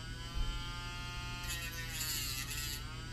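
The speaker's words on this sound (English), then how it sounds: "make sure you don't grind through the clear plastic" A handheld rotary tool grinds the clear plastic of a SMOK Nord vape pod, a close, steady high-pitched whine that rises into a harsher grinding rasp midway, then eases off.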